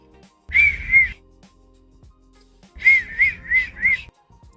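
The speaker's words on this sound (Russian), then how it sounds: "И тогда, лично для меня, получается свист." A person whistles using the tongue and moistened lips: two short high tones, a pause, then four quick similar notes in a row, clear and close against near silence.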